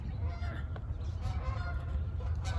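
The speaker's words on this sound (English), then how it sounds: "So there are geese over my head again." Geese honking overhead above a small orchard in winter, faint wavering calls drifting in and out over a steady low outdoor rumble.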